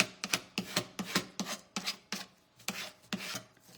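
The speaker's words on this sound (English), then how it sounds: "we're just doing a little scraping" A scraper drags paint off a wooden surface in about ten rhythmic, rasping strokes, each one close and crisp with short pauses between.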